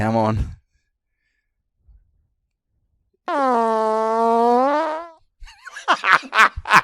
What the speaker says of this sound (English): I got one more fart for you.